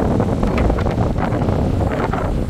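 Strong wind buffets the microphone on a walk through Nice, a loud continuous low rumble with gusting surges and no pauses, drowning out any other sound.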